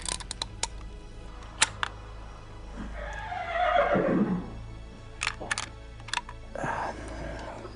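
A horse whinnies in The Beast Within: A Gabriel Knight Mystery, a dark-toned point-and-click adventure game: a single rising-then-falling neigh in the middle, with sharp clicks and faint ambient sounds before and after.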